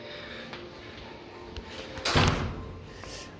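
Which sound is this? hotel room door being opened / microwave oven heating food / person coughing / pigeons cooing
hotel room door being opened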